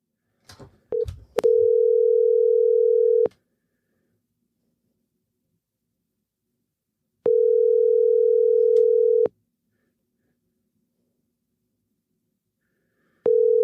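A telephone dial tone after a dropped call: brief handset clicks, then steady single-pitch tones sounding in long bursts separated by silence, clear and close.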